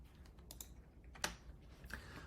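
Quick, light taps on a computer keyboard sound faintly in a quiet room, a handful of scattered clicks with a sharper keystroke in the middle.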